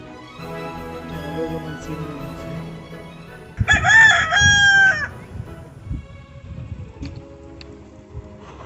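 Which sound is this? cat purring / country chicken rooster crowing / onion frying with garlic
country chicken rooster crowing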